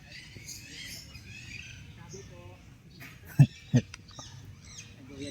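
A small bird gives scattered chirps and squawks against a quiet outdoor background, with two sharp louder knocks or calls near the middle.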